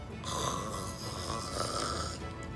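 A voice imitates a duck snoring, a steady breathy rasp that holds for about two seconds before cutting off, close and moderately loud with no other sounds.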